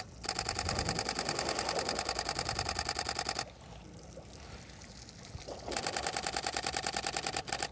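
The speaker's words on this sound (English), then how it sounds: "test out the autofocus and burst mode capabilities of this camera" Canon 90D camera shutter firing in burst mode outdoors, two long runs of rapid, evenly spaced clicks separated by a few seconds of quiet, close and crisp.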